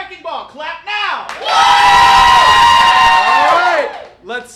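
Brief voices come first, then a game-show studio audience bursts into a loud, sustained roar of cheering and yelling to vote for a winner, lasting about three seconds before it fades, with a voice briefly at the end.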